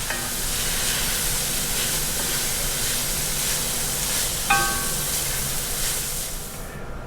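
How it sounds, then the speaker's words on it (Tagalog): Ground pork and salmon fry in a pan over medium heat with a steady, bright sizzle and hiss, broken once by a sharp metallic clink of a utensil against the pan. "Adjust the heat to medium and then add your protein, ground pork and salmon."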